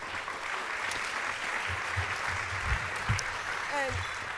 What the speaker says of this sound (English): A round of applause again, please.